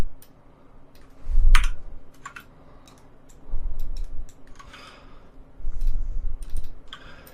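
Three short bursts of computer keyboard typing with a few isolated key clicks between them, close and fairly loud with no talk.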